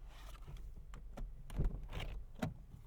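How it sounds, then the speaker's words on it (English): Squeaky door of a 2012 Honda Fit, heard as several short creaks and clunks over about three seconds, moderately loud and close, with a firmer thump near the middle and another toward the end. "This door is very, very squeaky."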